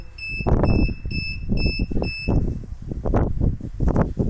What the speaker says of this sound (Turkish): Önce kırmızı led şeklinde alarm veriyor. Arkadan buzzer sesi.